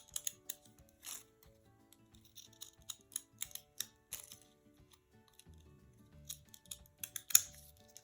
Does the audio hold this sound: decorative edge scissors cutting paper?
yes